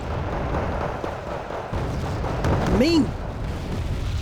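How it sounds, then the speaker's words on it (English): Rocket artillery explosions rumble in a Wargame Red Dragon battle as a steady low booming under an excited commentator's voice. A tonal whistling sweep cuts through briefly near the middle. "Enemy rocket artillery coming in from Genghiswolves."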